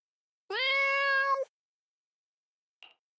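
A single drawn-out cat meow from Zenless Zone Zero, clear and close, lasting about a second, followed by a faint brief chirp after a pause; no voices.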